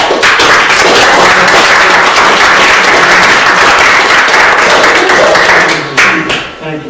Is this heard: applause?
yes